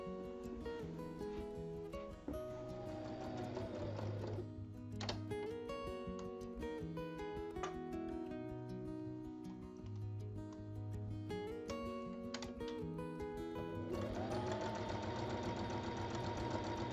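A sewing machine stitches fabric squares together, right sides facing, around the edge of a cubic vanity case, running in sustained close whirring bursts with brief pauses and changes in speed over several passes.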